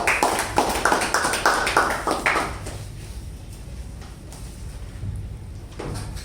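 A short burst of meeting-room clapping welcomes a speaker at a Toastmasters meeting, a dozen or so sharp claps that fade quickly into quiet room tone with faint movement sounds.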